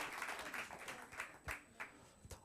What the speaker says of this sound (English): Shakes Kumalo, let's give him a round of applause